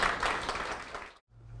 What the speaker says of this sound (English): let's give a big round of applause to Dr. John Hatcher